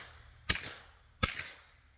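Two sharp, close shots from a suppressed Taurus G3 pistol, spaced about three quarters of a second apart, each a hard crack with a short decaying tail.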